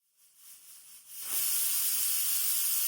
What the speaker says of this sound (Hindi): कुकर में जब 5 सीटी आ जाए और प्रेशर अपने आप कम हो जाए